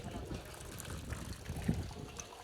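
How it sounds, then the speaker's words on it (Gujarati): Steady rain falling in a rural courtyard, with water running and filling a puddle. The wash is continuous and fairly faint, and some soft low splashes rise and fall throughout. "હજી વરસાદ આવે. જો ચાલુ જ છે."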